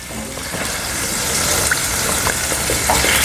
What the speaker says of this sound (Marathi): आता याच्यामध्ये कवळ्याच्या ह्या फोडी टाकते